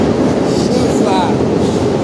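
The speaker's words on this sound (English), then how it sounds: "658 freight train." A freight train rolls past close by as a steady, loud rumble with rail noise and a faint wheel squeal, filling the whole stretch without a break.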